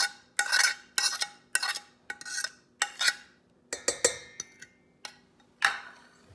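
A utensil knocks and scrapes against a bowl while mashed banana is stirred into pancake batter, making a steady series of sharp clinks and taps in close, irregular rhythm, with no voices.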